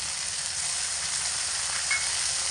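A ground paste of cumin and chilli sizzles in hot oil for khichuri, a steady loud hiss of frying with no break.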